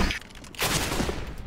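Negev machine gun fire in Counter-Strike, a short burst of rapid rattling shots over busy game noise, heard alone and fairly close for about a second.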